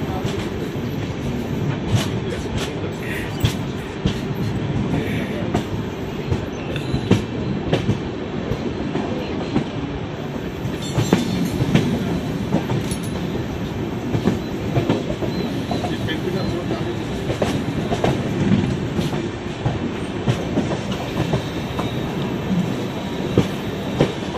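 Mumbai-Delhi Rajdhani Express running on rails, heard from inside a first-class AC coach: a continuous rumbling roar with rapid clickety-clack wheel beats throughout.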